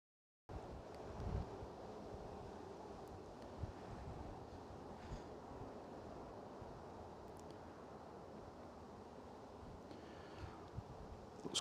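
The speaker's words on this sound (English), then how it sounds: "it's the wind is catching the camera all the time." Strong wind buffets a camera at Manchester Airport on a sunny day, a constant low rumbling roar with occasional gusty thumps that carries on for the whole stretch without voices.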